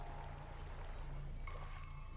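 A waterfall in Gothic 2 Archolos rushes as a steady, soft wash of falling water, continuous and fairly distant throughout.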